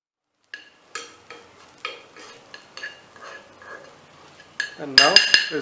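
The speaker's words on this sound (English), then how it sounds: "we will now add coconut. Or just slow down your flame. We just want to roast it." Coconut roasting in a pan over a lowered flame, stirred with a utensil that scrapes and clinks against the metal in steady strokes, growing louder and clattering near the end.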